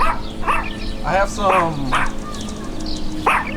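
A dog barks several times in short, sharp bursts nearby while someone speaks over it.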